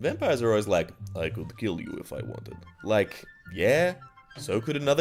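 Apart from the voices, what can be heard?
None of the usual background noises is heard.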